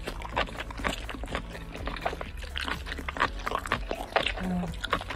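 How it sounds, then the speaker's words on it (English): Wet, close-up chewing and squelching of live creatures in a mukbang eating session, a dense steady run of smacking and crunching mouth sounds with no clear talk. "I guess she wants to make ASMR noises while chewing this"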